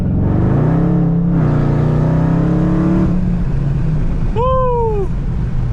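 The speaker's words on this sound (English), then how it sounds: "Oh my gosh, bro, that was an insane burnout" Dodge Hellcat burnout: a loud, close engine roar holding a steady low drone for about three seconds, then easing off into a rumbling idle, with a short high tire-like squeal rising and falling near the end.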